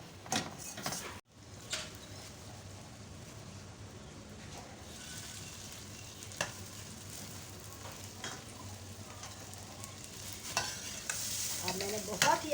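Mutton keema being stir-fried bhuna-style in a karahi, a steady sizzle with scraping stirs of a spoon against the metal pan, close, and a louder clatter near the end, no talk.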